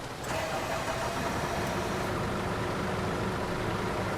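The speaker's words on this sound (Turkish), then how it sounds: "Ve şöyle bir kontağımızı açıp çalıştıralım." A city bus engine starting in The Bus video game, a brief cranking catch followed by a steady, loud diesel-like idle rumble that holds throughout.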